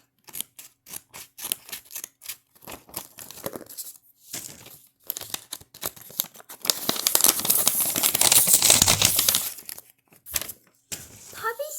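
A thin plastic package holding a squishy toy from a random box is torn open, with scattered crinkles building to a loud sustained rip near the end, while someone talks.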